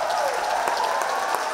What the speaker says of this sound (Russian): провожали долгими бурными аплодисментами